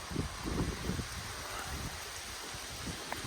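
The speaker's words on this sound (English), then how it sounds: "you can feel those winds coming at you" Windstorm gusts blowing through trees around a house during a Labor Day storm, a steady broadband roar with low rumbling buffets of wind against the microphone, continuous and fairly loud, with no talking.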